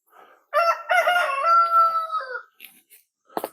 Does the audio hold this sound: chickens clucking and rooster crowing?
yes